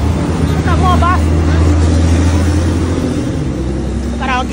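City street traffic with buses in an African city: a continuous loud engine and road rumble, close by, with faint chirping calls poking through at moments.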